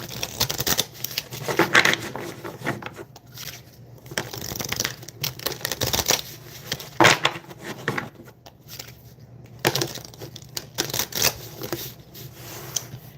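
Soft rapid riffling of a tarot card deck being shuffled, several bursts of crisp fluttering clicks separated by short pauses, fairly quiet with no talking.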